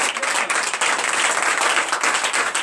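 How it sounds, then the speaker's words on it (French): A church congregation bursts into loud, sustained applause during a night deliverance and prophecy service, with dense clapping from many hands holding steady throughout. "Je vous demande d'applaudir très fort."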